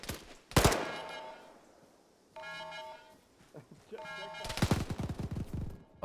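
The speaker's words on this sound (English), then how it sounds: "Fucking MG3 didn't waste no time on that guy." MG3 machine gun in Arma 3 firing in two sharp bursts, the first short and loud, the second a longer rattling burst near the end, with speech and game sounds in between.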